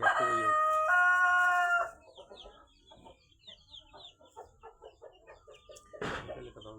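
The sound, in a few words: chickens clucking and rooster crowing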